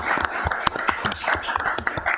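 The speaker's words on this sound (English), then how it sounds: "Let's give a round of applause for all the sheriffs" A round of applause for the sheriffs at a county board meeting, with a roomful of people clapping steadily and fairly loudly for a couple of seconds, no voices over it.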